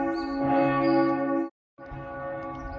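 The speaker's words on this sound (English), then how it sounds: "just the bells are ringing" Church bells peal in the old town of Biel/Bienne on a quiet Sunday, a steady loud ringing with rich sustained tones that breaks off briefly and resumes.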